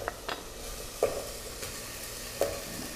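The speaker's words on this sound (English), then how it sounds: "I'm going to bring some rice in it" Already-cooked rice stirred through a hot pan, with a soft continuous sizzle broken by a few scraping stir strokes and clinks, close and fairly quiet, no voices.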